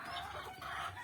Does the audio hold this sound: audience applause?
no